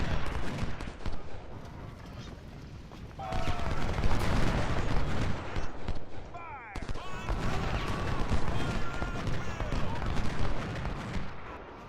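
Cannon and rifle fire rumble through a Civil War battle in Ultimate General Civil War at Chancellorsville and Salem Church, a dense, continuous barrage of booms and crackling volleys with a few whistling shells overhead.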